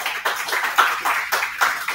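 An audience at a Tableau user group meeting in San Diego applauding, with a few people clapping in an uneven, fairly steady patter at moderate loudness.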